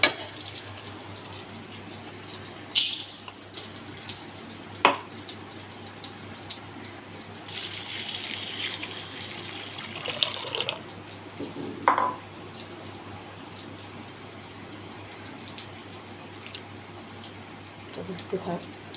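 Tap water runs steadily into a container of soaking wheat in a home kitchen, with a few sharp clinks and splashes breaking the flow and a voice talking over it.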